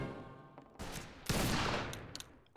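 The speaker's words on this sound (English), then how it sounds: "I go up and just barely kill this guy with the Derringer" Derringer gunshots in a video game firefight: a few sharp, loud cracks, the heaviest a little past the midpoint, each trailing into a brief noisy decay with no talking.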